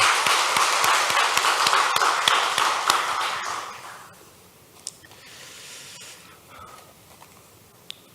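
A church congregation at a Sunday worship service bursts into dense applause that holds for about four seconds, then fades into quiet room tone with a few faint knocks.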